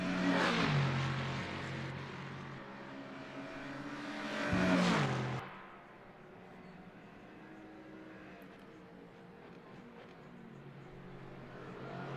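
In a multiclass sim racing game at Monza, race car engines roar as a McLaren and a Lexus run out of Ascari toward Parabolica. A loud revving pass swells and fades, followed by a quieter steady engine drone.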